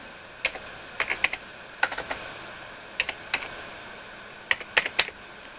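Quick clusters of keystrokes tap on a computer keyboard, coming in short irregular bursts with brief pauses between them, close and clear.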